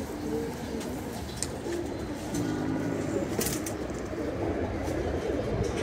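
Restless pigeons of an old breed coo repeatedly in a loft, low throaty calls overlapping against a rumbling background, with occasional sharp taps and wing flutters.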